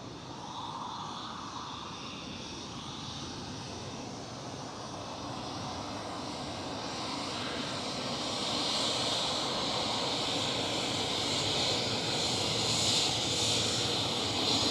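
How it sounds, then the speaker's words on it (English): A China Southern Cargo Boeing 777 freighter starts its engines at Schiphol Airport, a distant, steady turbine whine and rumble that slowly builds in loudness, with no voices present. "It's China Southern 777 freighter who was starting up."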